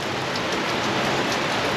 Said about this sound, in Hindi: देखिए देखिए अजब बारिश हो रही भाई, गजब बारिश।